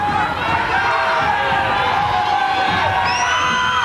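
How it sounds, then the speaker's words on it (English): Crowd noise inside the Farrell Center arena before a 1993 Baylor–Texas women's volleyball match: a steady, loud wash of many voices with cheering and whoops throughout. "Crowd filing in."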